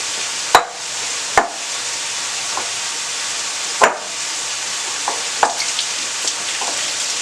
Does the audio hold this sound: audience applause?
no